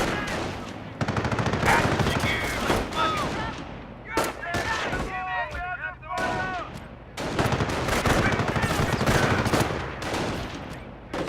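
Enemy troops firing in the Company of Heroes video game: dense, loud bursts of machine-gun and rifle fire crackle almost continuously, with a shouted voice and battle chatter cutting through the middle.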